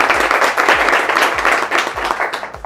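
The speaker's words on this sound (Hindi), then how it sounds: "तो एक बार राजेश सर के लिए क्लैपिंग हो जाए, ताली हो जाए।" Steady applause from a crowd at an AC, fridge and washing machine PCB repair training institute, a dense wash of clapping that carries on evenly for a few seconds.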